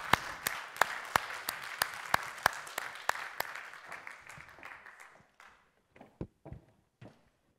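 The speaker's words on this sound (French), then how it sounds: "On peut l'applaudir le temps qu'elle arrive" Light applause from a festival conference audience as a speaker walks up, a few sharp regular claps over a soft patter that thins out and dies away into scattered final claps.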